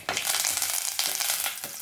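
Curry leaves hit hot oil for Thiruvananthapuram thattukada-style rasavada, bursting into a loud, dense, continuous sizzle with a couple of sharper crackling surges, close by and with no voices.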